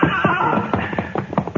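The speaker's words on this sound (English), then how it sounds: "you take the gray horse, Jane. He's gentle enough." A gray horse whinnies in a 1952 Gunsmoke western radio drama, a loud, close neigh with shaky, pulsing bursts that fade toward the end, with no talk.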